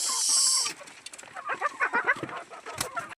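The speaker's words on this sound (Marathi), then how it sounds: "कोंबड्या मी डालून ठेवते दुपारपर्यंत आणि यातल्या मोकळ्या राहतात." Hens clucking nearby on a home poultry yard during the morning, with a burst of broadband noise at the start followed by a run of short, irregular clucks and calls.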